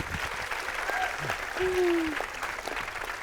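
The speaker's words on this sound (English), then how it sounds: "Can we get a warm round of applause to welcome our student interns" Faint, diffuse clapping from an event crowd welcoming student interns, heard at a distance with a few thin tonal squeals and muffled voices over it.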